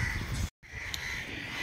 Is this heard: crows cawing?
yes